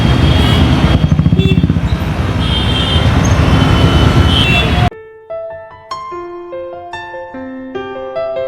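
Busy city road crowded with traffic and festival stalls: a dense roar of engines and passing vehicles, loud and close, for about five seconds before cutting off abruptly to music.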